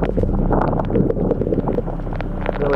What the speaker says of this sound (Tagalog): Bagyo. Ang ulan.